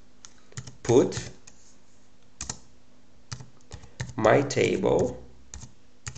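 Computer keyboard typing while setting up a table in an HBase shell, with scattered key clicks and short bursts of keystrokes mixed in with someone speaking over them.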